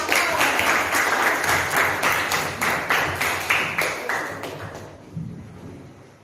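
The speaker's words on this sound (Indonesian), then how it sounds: "Tepuk tangan buat Hesti ya." Classroom students give a round of clapping for a classmate, rhythmic and fairly close, the claps pulsing in a steady beat before stopping abruptly and leaving a quiet room.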